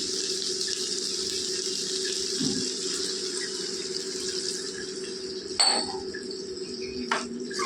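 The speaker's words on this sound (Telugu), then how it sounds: "ఇలా మగ్గినప్పుడు మనం నీళ్ళు వేసేసుకోవాలండి ఇందులోకి" A steady hissing pour of water into cooking okra curry runs for several seconds, followed by a couple of light metallic clinks.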